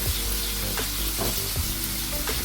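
Salmon sizzles steadily in a frying pan for curry salmon, a dense crackling hiss with occasional scraping stirs and shakes of the pan, close and continuous with no talk.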